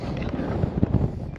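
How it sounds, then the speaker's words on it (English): Steady wind in Bahrain rumbles and buffets against the microphone, a low, continuous roar with gusty swells and no voices. "super windy out here"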